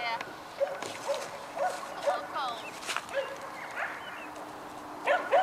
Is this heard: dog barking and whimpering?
yes